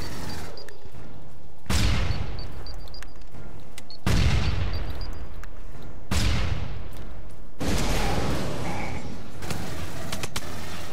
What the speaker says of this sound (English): I can throw some grenades